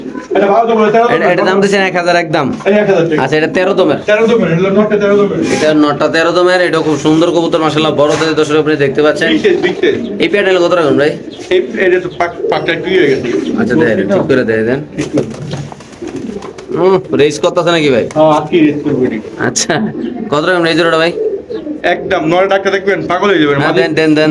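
A pair of Kaldom breed pigeons cooing repeatedly, loud and close, in throaty rolling phrases that overlap one another, with someone talking over the birds throughout.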